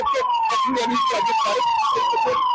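An ambulance siren wails loud and steady in a Jaisalmer street as the first ambulance arrives to carry bus-fire burn victims, its falling tone repeating without pause while a voice talks faintly underneath.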